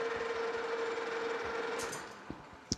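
A lathe on a horizontal boring mill restoration cuts a chamfer on a new bronze bushing, a steady whirring hum with a faint tone, then quieter with a couple of small clicks at the end.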